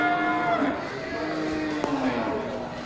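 Pregnant Aceh cattle at a livestock market let out long, low moos that drag and bend in pitch, one after another, with people chatting nearby and a brief knock partway through.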